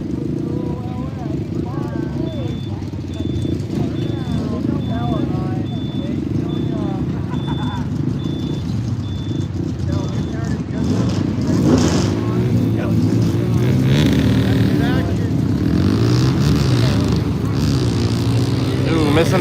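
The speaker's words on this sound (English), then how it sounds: "Got the Polaris Sportsman here in the tower side of the track." Polaris Sportsman ATV engines race around a 4-wheeler track in a junior eliminations event, droning loud and steady and swelling as the machines pass. A commentator talks over the engine noise throughout.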